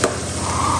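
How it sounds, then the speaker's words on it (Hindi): Onions fry in a pan with a steady, close sizzle that holds evenly throughout after a brief bump at the start, with no voices. "तो ये ऑनियन अभी फ्राई हो जाए।"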